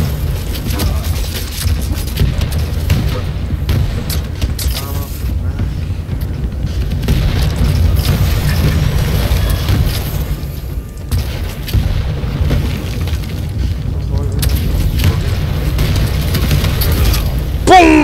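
Rocket launcher explosions in the arena shooter Quake Champions, heavy continuous booming and rumbling blasts layered with game action throughout, loud and dense.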